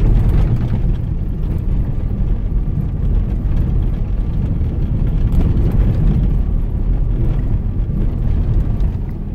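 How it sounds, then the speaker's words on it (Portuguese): Steady broadband road noise and engine drone from a Jeep Cherokee driving on a dirt road, loud and continuous throughout with no talk. "Vamos escutar o ruído do carro."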